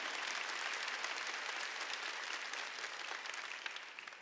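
Steady applause from a crowd at a church sermon, dense continuous clapping that holds throughout and tapers slightly toward the end.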